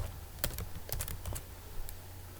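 Short run of computer keyboard typing, a handful of crisp key clicks in an irregular cluster over a steady low room hum, close and moderately quiet with no talk.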